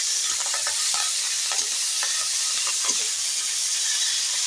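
Palta (pointed gourd) leaves fry in hot oil with a loud, steady sizzle and hiss, scattered small pops and crackles running through it, close up and alone.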